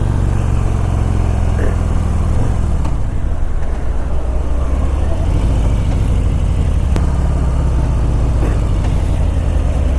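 A 2018 Harley Davidson Breakout 114 motorcycle rides loud and close with a deep engine rumble. Revs dip and rise as it shifts down through the gears, with brief gear clicks, under steady wind noise.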